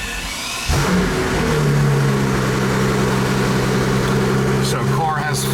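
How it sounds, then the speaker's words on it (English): A 2008 Mercedes-Benz S65 AMG V12 starts with a sudden burst, flares briefly and then settles into a steady, loud, close idle hum. It holds that even drone to the end, with a faint click near the finish. "we're going to press the start button here, right there, and we'll see it come to life"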